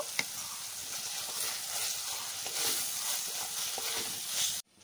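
Fried potato pieces sauté with a cooked spice mixture for ghugni, giving a soft, even sizzle with occasional faint stirring knocks, fairly quiet and close, before cutting off abruptly at the end.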